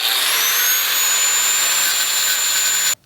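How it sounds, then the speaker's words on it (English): An angle grinder with a flat disc grinds a weld off a homemade firebox camp stove: a loud, close, continuous abrasive roar with a high whine that holds steady, then stops abruptly. "I'm gonna go ahead with a flat disc and go ahead and grind that weld off"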